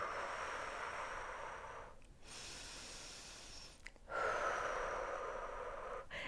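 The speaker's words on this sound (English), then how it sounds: "Exhale deeply through your mouth." Deep breath pushed out through the mouth during a Pilates warm-up, a steady airy exhale that fades, with a sharper second breath near the end, close and soft, no talking.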